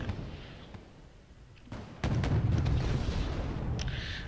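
Gunfire and explosions from the Wargame AirLand Battle video game, as anti-tank units fire on Abrams tanks: a quiet rumble, then a loud sustained burst of booming shots and blasts from about two seconds on.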